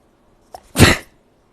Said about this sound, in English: See, we sneezed.